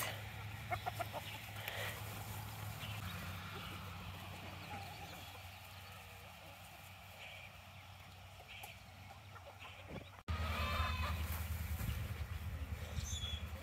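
Chickens clucking on a farm after being let out of their coop, a steady mix of soft clucks and farmyard noise with a louder burst of activity near the end.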